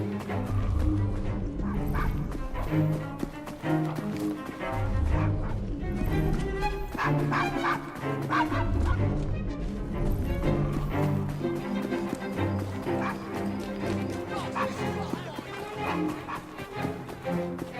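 A dog in the video game Assassin's Creed Syndicate barks and yips repeatedly in a steady, insistent rhythm, close and loud throughout, with whimpers between barks over a busy background.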